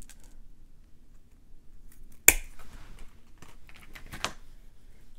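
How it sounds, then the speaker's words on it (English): Memory wire cutters snip through a length of memory wire for a Christmas bangle, giving one sharp, close metallic clip with a smaller click about two seconds later, in an otherwise quiet room. "You want to make sure you have your memory wire cutters out. And I'm just going to cut more than I need."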